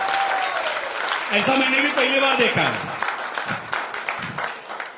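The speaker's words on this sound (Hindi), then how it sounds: "एक बार सभी पापा लोगों के लिए एक बार जोरदार ताली होनी चाहिए।" Audience at an agriculture products training session breaking into applause, a steady wash of clapping while someone speaks over it, then thinning out toward the end.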